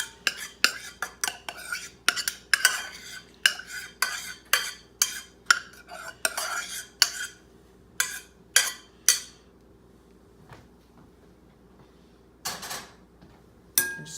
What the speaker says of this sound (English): You're just gonna dump the rice right in over the broccoli.